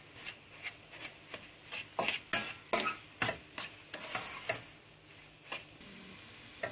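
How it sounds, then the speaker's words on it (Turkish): Spoon scraping and stirring through flour halva in a pan as sugar is worked in, a steady run of soft scrapes and taps with a faint sizzle underneath, close and fairly quiet. "Ve bunları da güzelce karıştırıyoruz."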